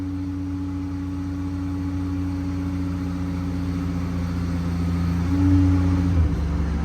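The diesel engine of a 2016 Ford F550 mechanics truck with a Palfinger crane idles up to build air pressure: a steady, close, low droning hum that shifts in pitch near the end, with no talking.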